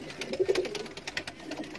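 Pigeons coo softly at a pigeon loft, low throaty calls repeating over rustling and background noise, close by and fairly faint.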